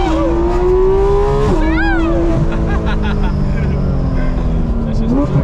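Porsche GT3 RS launching at full throttle, its engine note climbing steadily through the gears with sharp shift breaks, loud and close from inside the car; people talk over it.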